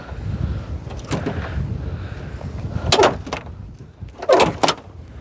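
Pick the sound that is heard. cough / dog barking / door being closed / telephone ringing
door being closed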